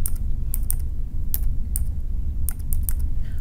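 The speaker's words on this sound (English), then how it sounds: "enter the phone number by using your keypad" Keys are tapped on a keypad to enter a phone number, a string of sharp, close clicks in an uneven rhythm over a low hum.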